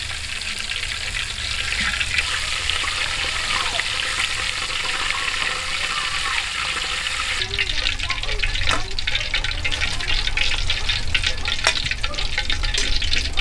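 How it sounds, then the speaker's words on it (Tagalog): A whole chicken deep-frying in oil in an outdoor cooking setting gives a steady, dense, loud sizzling roar that continues throughout, close up, with a change in texture partway through and occasional sharper pops. "Chicken frying"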